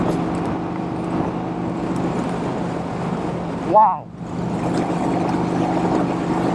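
A 1951 Vincent Rapide motorcycle engine drones steadily while riding in fourth gear, a continuous engine and wind roar with a brief swell and dip near the middle, where a man's short exclamation rises over it.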